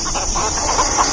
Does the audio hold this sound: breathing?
no